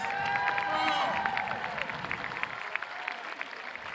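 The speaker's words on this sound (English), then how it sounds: "Can we have another round of applause for our student speakers, please?" A crowd at the Brockton High School graduation ceremony gives the student speakers a round of applause: sustained clapping with scattered cheers and some crowd murmur, gradually thinning toward the end.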